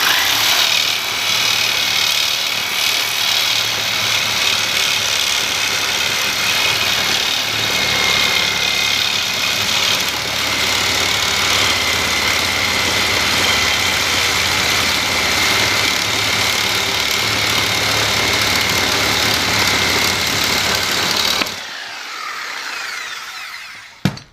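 A reciprocating saw cuts through cinder block for about twenty seconds as a loud, steady, harsh buzz, then drops away suddenly into quieter noise.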